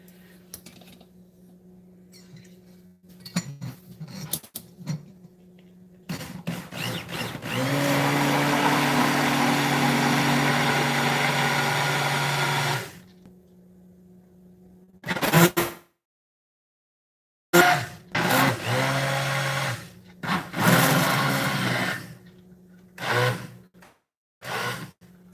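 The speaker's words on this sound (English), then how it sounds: "If you don't have an emulsion blender, this thing is phenomenal." A steady electric motor whirs loudly for several seconds, then stops; short bursts of an immersion blender blending coffee and clatter follow with pauses in between.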